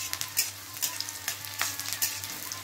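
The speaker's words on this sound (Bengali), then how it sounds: "আর একটু পেঁয়াজটা লাল করে ভেজে তুলে রাখবো" Onion fries in oil until browned, a steady bubbling sizzle broken by repeated stirring scrapes and soft clinks of a spoon against the pan, with no voices.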